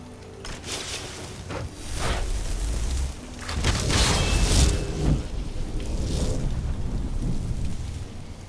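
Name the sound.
thunder and rain in the video game Skyrim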